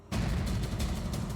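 A gunshot in a Bengali-dubbed CID television crime drama, a sudden loud blast followed by sustained heavy booming reverberation that fills the short moment, with no talk.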